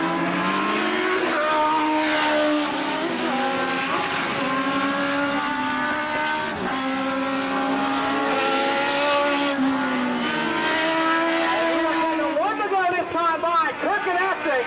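Legend Division race cars roar around Tosa Raceway Park in a heat race, with loud overlapping engine whines rising and falling as they pass, and a commentator talks over the noise throughout.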